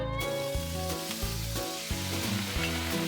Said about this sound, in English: I need to deglaze this pan with all its juices